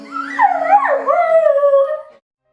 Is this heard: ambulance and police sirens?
no